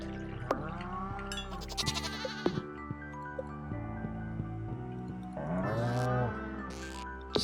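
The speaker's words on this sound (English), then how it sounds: "Oh, we got a brown cow." A brown cow in the Stardew Valley farming game gives drawn-out, moderately loud moos, two distinct calls over soft background game music.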